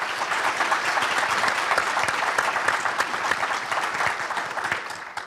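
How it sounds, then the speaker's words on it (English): An audience gives a forum panel a sustained round of applause, dense and steady throughout, tapering slightly at the very end. "So can we give them a round of applause before we get to questions?"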